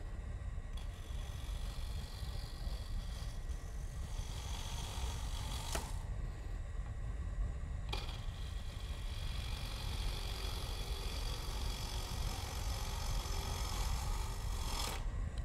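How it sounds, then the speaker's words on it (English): A wood lathe spins a bowl blank while a carbide cutting tool scrapes its outside, producing a quiet, steady rough rasping hum with faint rhythmic rubbing and no voices. "I'm gonna stop the lathe."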